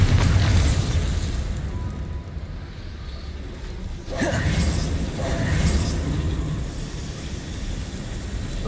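Bombarda spell blasting in Hogwarts Legacy on PC: a sharp explosive burst breaks out midway, then a second rumbling boom follows, set against a continuous low game-world drone.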